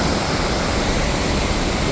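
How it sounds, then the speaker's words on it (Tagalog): Crescent Falls, a waterfall in Alberta, Canada, gives a steady, loud, dense roar of rushing water with no pauses or other sounds. "Ito pala yung falls."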